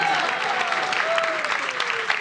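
An audience claps together in a lively, continuous burst of applause at moderate loudness, with a voice faintly audible underneath.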